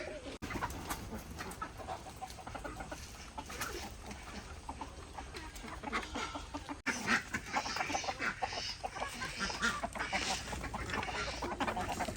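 Chickens cluck and murmur softly at close range, with scattered bird calls over a low background hiss.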